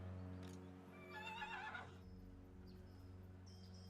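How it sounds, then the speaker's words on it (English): A horse neighs once, a loud wavering whinny, inside the video game Total War Warhammer 2, over a steady game music drone with faint hoof clops. "Clicked on their city and I heard a horse."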